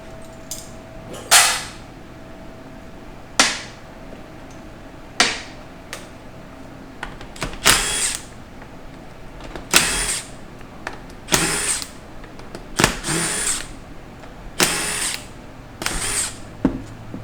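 Power tool backing bolts out of a rusted 2001 4L60E automatic transmission during teardown, heard as a series of short loud bursts spaced a second or two apart, close by, with no talking.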